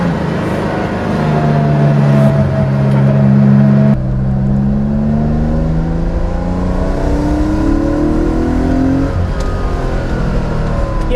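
A 1987 air-cooled Porsche 911, backdated, drones steadily up close while driving, the flat-six note climbing through the revs, breaking off briefly with a gear change and then rising again through the next gear.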